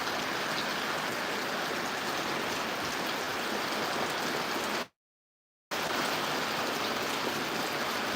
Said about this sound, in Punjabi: ਅੱਜ ਇਹ ਵਾਲਾ ਮੀਂਹ ਪੈ ਰਿਹਾ